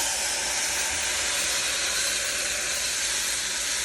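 Stock and tomato sauce for carne guisada hit a hot pan with a loud, steady, close hiss of steam and sizzling that holds evenly throughout, with no voices.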